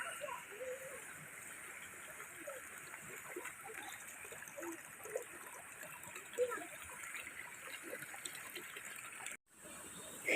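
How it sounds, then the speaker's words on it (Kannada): Steady broadband rush of water flowing through a paddy field channel, continuous and fairly close, with faint splashes and a brief dropout near the end. "ಇಲ್ಲಿ ನೀರು ಹೋಗೋ ಸೌಂಡ್ ಕೇಳಿಸ್ತಾ ಉಂಟ ನೋಡಿ"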